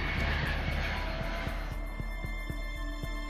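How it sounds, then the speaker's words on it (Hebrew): Boeing 747 Supertanker, a converted firefighting aircraft with an 80-ton water capacity, heard as a loud roaring engine drone that eases into a lower, steady pulsing hum. "מטוס בואינג 747 שהוסב למטוס כיבוי בעל קיבולת של 80 טון מים"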